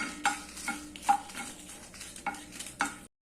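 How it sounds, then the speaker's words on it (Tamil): Dried red chillies and a small lump of tamarind roast in oil, brisk rhythmic stirring scrapes over a soft sizzle, close and quiet, ending abruptly. "இதை வறுத்துக்கலாம்"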